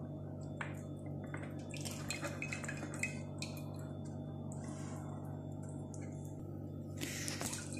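Coconut milk squeezed by hand through a sieve, with faint wet drips, small squishes and light clinks of kitchenware over a low steady background hum; no one speaks.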